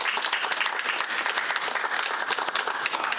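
Dense, steady audience applause from a crowd at a tech conference talk, close and continuous for a few seconds with no pauses.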